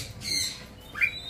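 An owl in an aviary gives two short harsh squawks about half a second apart, close and fairly loud against a quiet background.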